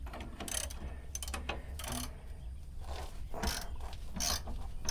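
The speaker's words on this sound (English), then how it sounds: "Okay, so maybe this ratchet is different" Ratchet wrench tightening a fastener underneath a vehicle being lifted, repeated close clicking pawl strokes in bursts over a steady background hum, no talk.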